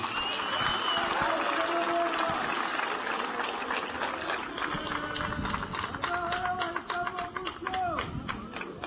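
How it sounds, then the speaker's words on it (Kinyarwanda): An audience at a political gathering claps in sustained, dense applause that runs throughout, loud and close, with a voice and tonal sounds rising over it at times. "Nagira ngo mubampere amashyi tubashimire."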